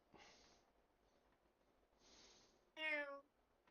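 Cat in a NieR Replicant game scene, heard as a short, fairly loud harmonic meow near the end, after two soft breathy snort-like sounds, with no one talking.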